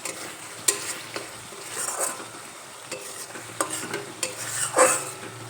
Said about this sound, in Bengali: মাঝে দেখো একবার ঢাকনা তুলে একটু নেড়ে চেড়ে নেব যাতে মশলাটা কড়াইতে লেগে না যায়